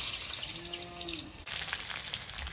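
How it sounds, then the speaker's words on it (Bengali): Garlic, nigella seeds and onion fry in oil for a crab curry with Malabar spinach, giving a steady close sizzle. A faint tonal hum sounds early on, and there is a brief dip near the middle. "তেল দিয়ে দিচ্ছি রসুন কোচা কালো জিরে পেঁয়াজ কোচা"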